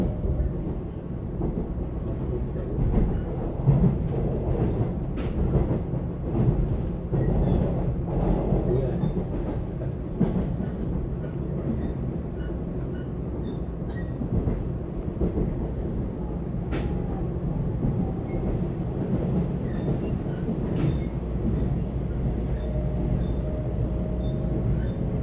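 An EMU724+EMU723 electric commuter train on Taiwan's Yilan line passes with a steady, moderately loud rolling rumble and faint metallic clacks that last the whole stretch.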